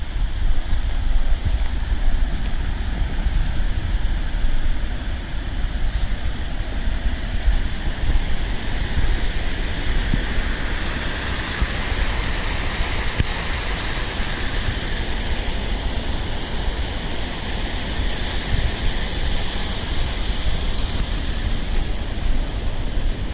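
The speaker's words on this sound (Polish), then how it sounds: "jest bardzo duży szum od wodospadu" A waterfall pours over a 19th-century mill dam with a loud, dense, unbroken roar of rushing water, close and heard alone, steady for the whole stretch with no voices.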